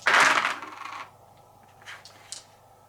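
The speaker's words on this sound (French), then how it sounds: "Donc je lance 5 dés." Five dice rolled in a board game land in a bright loud rattling clatter. A few small scattered clicks follow as they settle.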